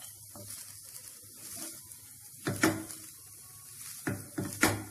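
Onions are stirred into vegetable fried rice in a frying pan, a quiet scraping and tapping of a spatula in a few uneven strokes over a faint low sizzle.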